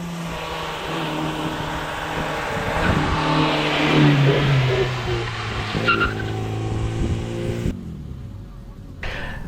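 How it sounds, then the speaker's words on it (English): A Formula Junior race car with a Ford engine roars past close by, its engine revving and howling with some tire squeal, then cuts off sharply near the end. "It's a Formula Junior running a Ford motor."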